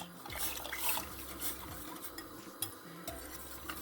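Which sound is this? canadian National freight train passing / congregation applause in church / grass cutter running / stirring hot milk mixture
stirring hot milk mixture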